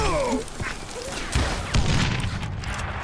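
Gunfire in the Call of Juarez Gunslinger western shooter, a few sharp cracks and thuds over a busy, rumbling background, moderately loud and irregular.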